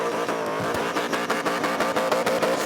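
At a Summernats burnout competition in Western Australia, a car does a burnout. Its engine roars continuously while the tyres screech and scrabble on the pad, loud and sustained with pulsing bursts.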